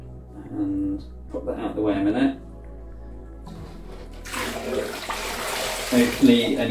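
A telescope mirror is swished around in a bowl of slightly soapy water, giving splashing and sloshing that come and go with a louder burst of running water near the end, mixed with someone talking.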